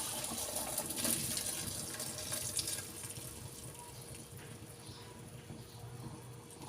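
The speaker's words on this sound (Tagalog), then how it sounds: "Nilagyan ko ng konting tubig na galing sa pasta para hindi siya mag-dry." Pasta water poured into a pan of pasta and shrimp, a steady splashing, trickling pour that runs for several seconds, close and moderately loud in a kitchen setting.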